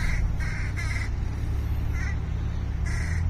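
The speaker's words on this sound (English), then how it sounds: "Stupid fish crows eating the garbage." Fish crows near garbage give a series of short, nasal caws in quick bursts, several in the first second and more spaced out after, heard at moderate distance over steady background noise.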